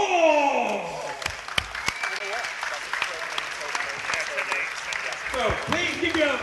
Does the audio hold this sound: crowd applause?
yes